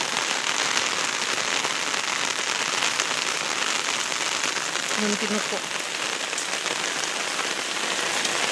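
Heavy, steady rain pours down onto surfaces in a dense, unbroken hiss, with a person speaking briefly partway through.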